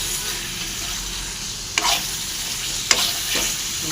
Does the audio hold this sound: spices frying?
yes